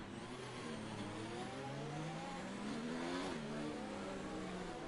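F1 2019 racing game cars at Monaco accelerating hard as the safety car period ends, several engines revving up together in rising, overlapping whines that stay loud and steady throughout.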